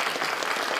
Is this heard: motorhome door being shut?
no